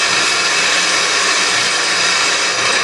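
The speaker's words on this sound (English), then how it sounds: "I have this little sanding belt" A small sanding belt grinds against a steering gearbox bolt from a 1953–1962 Corvette, a loud, continuous abrasive whir heard up close and alone.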